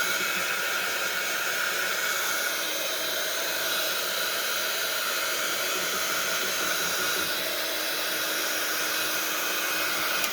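Heat tool blowing on a glued napkin decoupaged onto a mixed media journal page, a steady close airy roar that holds evenly for the whole stretch with no pauses.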